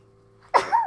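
A single close, sharp human sneeze bursts out after near silence, loud and brief, with a second softer exhaled tail right after.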